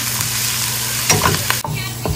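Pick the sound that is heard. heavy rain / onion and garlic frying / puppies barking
onion and garlic frying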